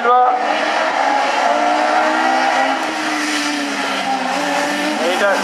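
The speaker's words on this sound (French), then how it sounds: "Superbe départ encore une fois de Da Silva." Rallycross race cars, including a Clio, accelerate hard off the start. Loud, continuous engine roar with shifting revving tones fills the whole stretch, while a French commentator talks over it.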